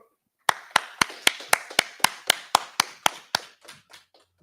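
A group claps in unison, about a dozen sharp, evenly spaced claps in a steady beat, close and loud, then a few trailing softer claps as it breaks up.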